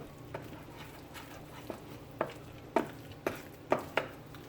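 Spoon stirring and folding thick ripe banana fritter batter in a bowl, Jamaican style, heard as a series of soft, close scraping taps that come at irregular moments over a quiet background.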